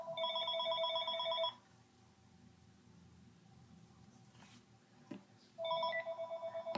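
A telephone rings with an electronic trill, two loud bursts of rapid warbling tones separated by a quiet gap of about four seconds, heard indoors with faint background rustling.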